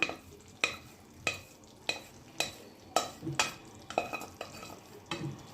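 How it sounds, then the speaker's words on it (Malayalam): Cooked green gram dal gets mixed into semolina in a pan, with regular spoon scrapes and knocks repeating about every half second over a soft background sizzle, close and with nobody talking. "ജസ്റ്റ് നല്ല പോലെ ഒന്ന് മിക്സ് ചെയ്തെടുക്കണം കേട്ടോ ഇതുപോലെ നല്ല പോലെ ഒന്ന് മിക്സ് ചെയ്തെടുക്കാം"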